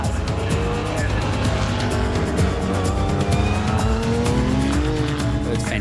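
Racing cars at the 2016 New Zealand Festival of Motor Racing at Hampton Downs, a mixed field of Formula 5000s and muscle cars. Several engines roar and whine together without a break, with tyre squeal and cars passing close by.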